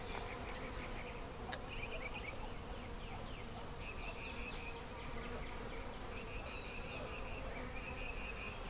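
Honey bees buzz steadily around an open beehive super, a continuous faint hum layered with the brief whines of individual bees passing close, and no talking.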